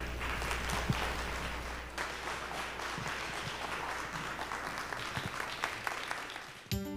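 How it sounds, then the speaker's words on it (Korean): A lecture audience claps steadily for a professor being welcomed to the stage at a televised science talk, with dense, continuous applause filling the hall for about seven seconds before it cuts off abruptly. "멋진 자랑거리를 가진 학자 이병호 교수님을 큰 박수로 맞이해 주시기 바랍니다."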